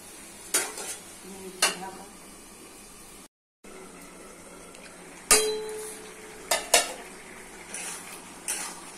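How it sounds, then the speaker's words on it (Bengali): Toor dal and potatoes being stir-fried in a pan, with several sharp metal utensil clangs and scrapes against the pan at irregular intervals over a low background sizzle; no talking. "ভালো করে কষে নিতে হবে তুয়ারের ডাল আর আলু, কষে কষে রান্না করে নিতে হবে।"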